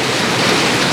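Water pours steadily onto a sheet metal roof, a dense, loud, continuous hiss and patter without any pause.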